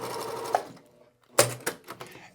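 A sewing machine stitches quilt pieces in short bursts, stopping and restarting several times at close range with no talk.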